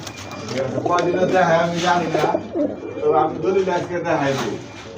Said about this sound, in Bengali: এই যে দেখেন কবুতর দেখেন